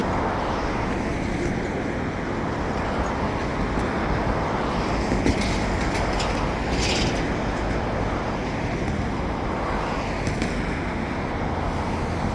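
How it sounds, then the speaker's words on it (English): A heavy train pulled by six locomotives rumbles steadily past, a broad continuous roar of engines and rolling wheels with occasional clanks, sustained and fairly close. "6 engine train coming out of the hole."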